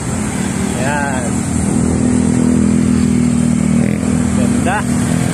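A motorcycle rides along a road with a steady, loud engine drone and constant wind rush from up close, while people talk briefly over it.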